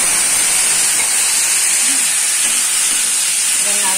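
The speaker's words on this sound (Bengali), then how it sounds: "অল্প একটু জল দিয়ে দেবো, কেননা মশলাটা নালে পুড়ে উঠবে।" Water poured into hot frying spices and tomato for a Bengali fish curry of amudi fish, giving a loud, steady steam hiss and sizzle close up that runs through the whole stretch.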